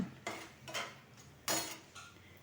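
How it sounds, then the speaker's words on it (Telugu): Chopped ivy gourd tipped into a hot pan for a Telugu dondakaya pachadi, giving several short bursts of clatter and scraping against the pan, with one louder rattle near the end and a faint sizzle between. "ఇప్పుడేమో దొండకాయలు వేద్దాం"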